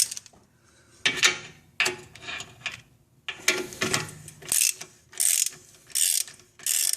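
A ratchet wrench clicking on axle bolts of a 2000 BMW X5, heard in repeated bursts of rapid pawl clicks with short pauses between strokes, close up and with no talking.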